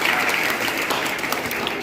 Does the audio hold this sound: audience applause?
yes